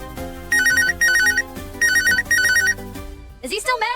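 A phone rings in two electronic trilling bursts, each made of quick repeated chirps, over steady background music. A brief squeaky sweep follows near the end.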